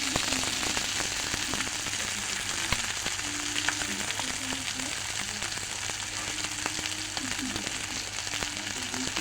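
Noodles and egg fry in a pan with a continuous crackling sizzle and scattered pops, close and steady, along with occasional soft scraping of a stirring utensil.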